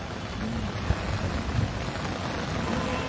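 Steady heavy rain pours down at a bus stand, a dense even hiss with a soft low rumble of thunder beneath, constant throughout the short stretch, with no speech.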